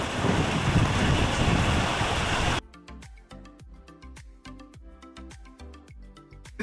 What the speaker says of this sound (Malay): Tiba-tiba hujan.